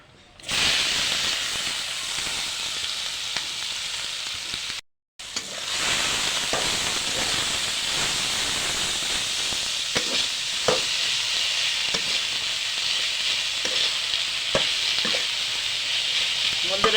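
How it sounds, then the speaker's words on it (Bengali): Potatoes, onion, green chili, ginger paste and ground spices fry in a pan, a loud, dense, continuous sizzle and hiss with occasional stirring scrapes, close and without talk. "এখন এটা আমি ভালো করে ভেজে নিব"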